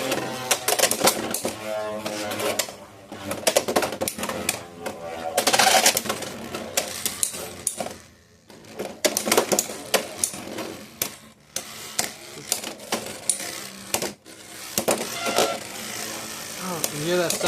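A Beyblade UX-13 Golem Rock on an under needle tip spins and clatters in a plastic stadium, with a busy rattling, tapping texture and brief pauses, under intermittent talk.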